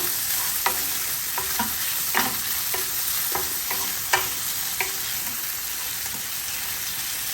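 Pork stir fry frying and sizzling in a pan, with a steady sizzle and repeated scraping, clinking stirs of a utensil against the pan at irregular intervals.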